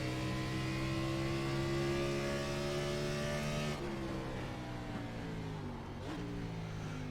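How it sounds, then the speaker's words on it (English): A NASCAR race car in the iRacing sim racing game on a road course: a loud, steady engine drone with strong harmonics that drops in pitch midway as the car shifts down, then continues revving alone without any talk. "I shifted down to the wrong gear"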